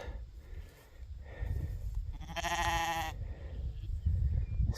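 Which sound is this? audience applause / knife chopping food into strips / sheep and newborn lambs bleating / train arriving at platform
sheep and newborn lambs bleating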